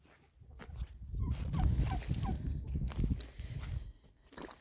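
Chickens cluck around a homestead yard, a steady close murmur of fowl calls with soft shuffling footsteps mixed in.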